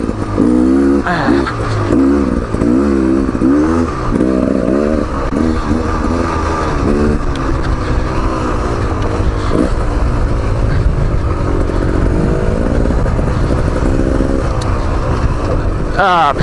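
A 2019 Beta Xtrainer 300 two-stroke dirt bike runs loud and close, its engine revving and rising in pitch through bursts of acceleration with a steady rasping drone and some clatter underneath.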